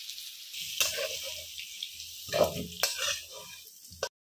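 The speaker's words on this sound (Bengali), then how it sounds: "ওল আর আলুটাকে ভালো করে ভেজে নিয়েছি, এবার নামিয়ে নিচ্ছি।" Elephant foot yam and potato pieces frying in oil, hissing and sizzling with scraping stirs and a couple of sharp clatters, close and fairly loud.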